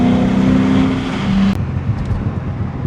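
A BMW E30 fitted with a V8 engine revs quickly while driving, a loud close engine note that rises then drops sharply as the throttle is released, with rumbling road and drivetrain noise continuing afterward.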